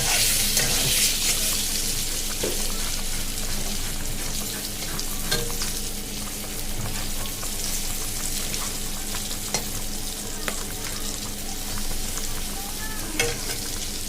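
Pointed gourd (patol) frying in oil in a pan gives a steady close sizzle, with occasional stirring clinks and scrapes over it and no speech.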